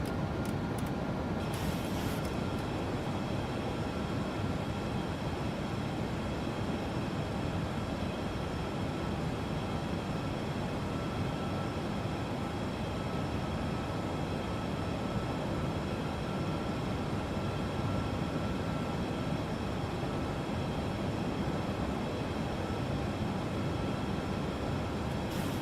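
A steady, dense cockpit roar from a PMDG 737-800 Norwegian airliner in Microsoft Flight Simulator 2024 on a flight between Oslo and Gdansk. It holds even throughout with no talking, apart from a brief faint click early on.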